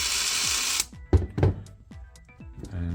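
A Ridgid 18V brushless impact driver runs in mode one, first as a loud steady whir, then as a series of sharp stuttering hammer bursts with pauses between them, close up.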